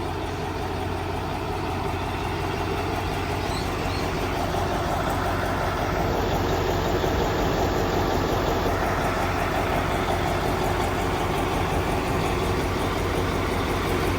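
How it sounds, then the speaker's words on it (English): A Mack F700 truck engine runs steadily with a rough agricultural exhaust setup, a loud, even, close-up idle rumble that carries on without pause or talking. "What a ripper, she just runs like a Swiss watch."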